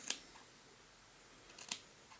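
Two quick snips of scissors cutting craft fur from its backing for a streamer fly, short crisp clips spaced apart with quiet between them.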